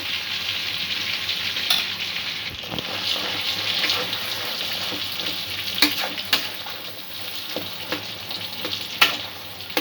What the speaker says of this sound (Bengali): এই ঘিয়ে ডালটা ভালো করে পাক দিয়ে দেব